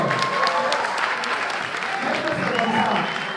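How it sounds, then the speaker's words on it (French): An audience at a talk on pan-Africanism keeps up sustained applause, a dense, even wash of clapping mixed with crowd voices and some cheering throughout. "On applaudit encore."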